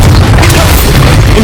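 A Confringo fire-blast spell from Hogwarts Legacy, a loud sustained booming burst that fills the short moment with dense low rumble and crackle, heard over game audio.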